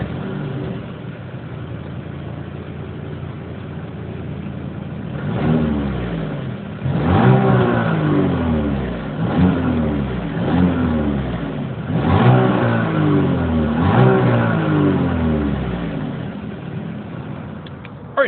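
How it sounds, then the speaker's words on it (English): A 2020 Audi Q5 exhaust heard from behind the SUV: a steady idle broken by several sharp throttle blips, each rev rising and falling back, loud and close with no talking. "As always, here is that exhaust clip."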